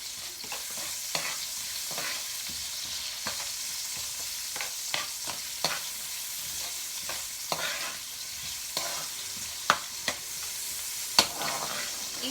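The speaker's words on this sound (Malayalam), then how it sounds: "ഉള്ളി ഒന്ന് വഴറ്റി വരുമ്പോഴത്തേക്ക് വഴറ്റിപ്പിക്കാനായിട്ട് പെട്ടെന്ന് കുറച്ച് ഉപ്പും കൂടി ഇട്ട് കൊടുക്കുകയാണെങ്കിൽ പെട്ടെന്നാവും കേട്ടോ" Onions sautéing in a large pan with a pinch of salt, giving a soft, steady sizzle broken by light, irregular stirring scrapes and a few sharper clinks of the utensil against the pan.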